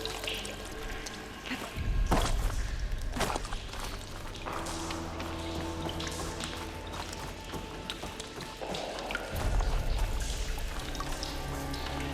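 Water sloshes and squishes as a character wades through it in Horizon Forbidden West, a continuous wet churning with heavier splashy surges and footstep-like squelches, loud and close, with no talking.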